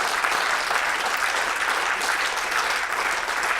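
Steady, fairly loud audience applause at a Ruby programming conference talk, dense clapping from a room full of listeners sustained evenly with no speech over it.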